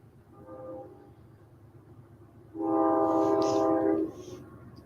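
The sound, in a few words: train passing with horn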